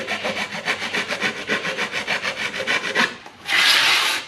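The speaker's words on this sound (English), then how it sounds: "Last thing is just going to correct some of the radiuses just with a file very gently." Hand file gently rasping radiused edges of a metal floor mat sheet, steady rhythmic back-and-forth strokes up close, followed by a brief louder hissing scrape at the end, with no voices.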